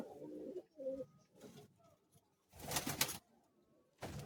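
Several pigeons of competition racing stock, cocks and hens, cooing in soft, low repeated bursts, close by and moderately quiet, with short pauses and a louder cluster of calls near the end.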